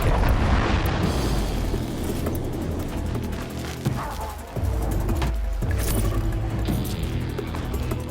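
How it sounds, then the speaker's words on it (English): Proximity bombs go off in the video game Horizon Zero Dawn, loud booming blasts and bursts layered over game noise, with a sharp dip and renewed rumble midway. "Bet we can take this guy out with proximity bombs."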